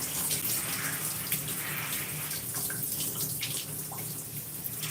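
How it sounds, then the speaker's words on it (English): Steady running water rinses styling product out of natural gray curly hair before shampooing, a continuous close hiss and splash with no pauses. "we're trying to rinse out the product before we go on with shampoo."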